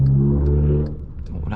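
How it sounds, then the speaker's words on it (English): A Peugeot car engine revs with a deep, strong growl close by, then drops away into lighter rumbling and clatter. "That was a Peugeot, that was like a beastie sound."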